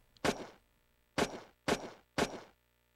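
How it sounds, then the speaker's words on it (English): Four sharp, punchy gunshot effects from a PS2 video game demo, one near-isolated crack followed by three more in quick succession, each with a short decaying tail, loud and dry with no talk over them. "Like, I've heard this used as a gunshot in games before."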